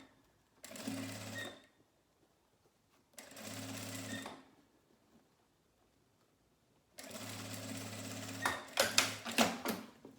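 Sewing machine stitching closed the bottom seam of a fabric pouch, three close mechanical runs of steady rapid stitching, the first two about a second long and the last about three seconds, with quiet pauses between them.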